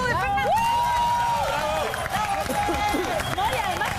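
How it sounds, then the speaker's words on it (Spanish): A studio audience on an Argentine television gossip show cheers and applauds loudly, with whoops and shouts riding over dense clapping and crowd noise throughout. "Un aplauso para el primer dato de Fernanda."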